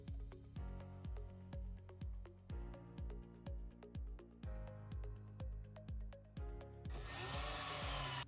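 A power driver sinks metal screws during an RV storage install, pulsing in repeated short whirring bursts with rising pitch, then a brief louder hiss at the end; close and fairly quiet with no talk.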